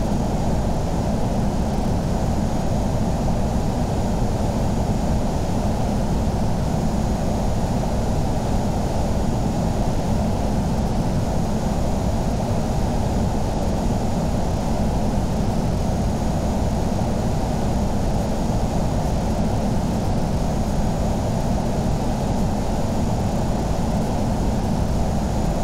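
Steady, loud jet engine roar from an aircraft on a carrier deck in Flight Simulator X, a constant broadband rush that holds unchanged throughout with no talk over it.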